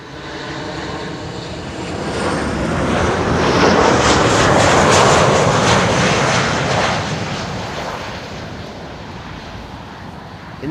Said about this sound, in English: This is KLM flight 1164 arriving from Bergen.